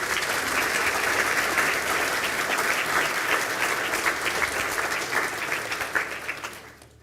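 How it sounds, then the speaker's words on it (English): Sustained audience applause fills a graduation conferring ceremony hall in Galway, a dense steady wash of many hands that holds for several seconds before tapering off at the end. "applause"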